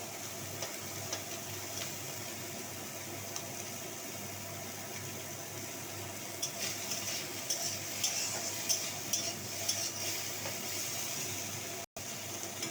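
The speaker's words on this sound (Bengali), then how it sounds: "মাছ ভাজা আমার প্রায় হয়েই এসেছে" Steady, moderately quiet frying sizzle with occasional clinks and stirring sounds from a pan, louder crackling bursts partway through; no talking.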